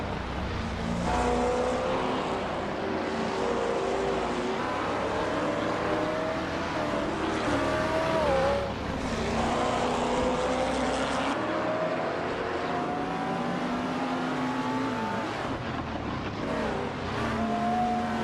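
Race car engines in a racing game howl continuously and loudly, pitch climbing and dropping through repeated accelerations and gear shifts, several engines layered close together.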